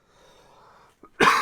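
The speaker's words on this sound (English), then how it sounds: "excuse me, cough still lingering." A single sharp, loud cough bursts out close by at the end, after a stretch of quiet breathy background.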